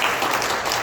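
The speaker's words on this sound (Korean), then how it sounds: "박수 한번 쳐주십시오" Brief audience applause at a business forum, a short dense burst of many hands clapping in a hall, loud and uniform for under a second.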